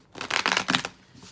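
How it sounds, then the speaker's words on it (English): Cards are riffled and shuffled for a tarot-style love reading, a short close burst of papery flutters lasting under a second, fairly quiet and with no talk. "One more shuffle."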